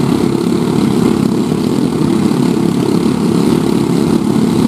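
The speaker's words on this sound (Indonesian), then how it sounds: "Dia menggas motornya hingga pol. Helikopternya sudah berputar." A homemade village-built helicopter with its engine throttled up and the rotor spinning, giving a loud, continuous, close engine roar with a dense buzzing rotor hum that holds steady throughout.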